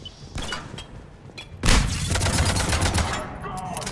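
Gunfire in Mass Effect 3: a few scattered shots give way to a loud burst and then sustained rapid automatic fire crackling close by.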